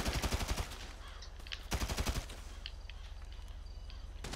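Rapid automatic gunfire in GTA 5 Online comes in two loud bursts of quick repeated shots, with sparser fire and game noise in between.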